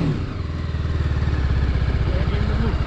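A BMW G310RR single-cylinder motorcycle idles close by, its exhaust putting out a steady, loud, rapid low thumping throughout, with no talk over it.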